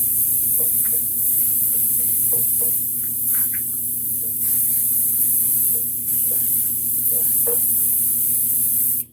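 Yellow paint is misted onto a quarter-scale custom Thor sculpture, a steady hissing spray over a constant electrical hum, with a few faint clicks and no talking.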